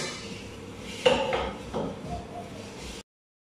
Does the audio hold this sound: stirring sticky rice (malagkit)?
yes